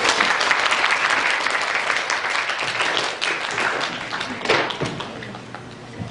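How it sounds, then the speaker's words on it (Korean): A lecture audience claps in a full, steady round of applause lasting several seconds, dense and close, with a few louder thumps near the end. "박수라고."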